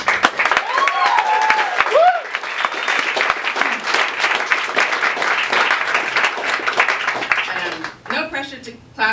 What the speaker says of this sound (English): No pressure to clap each time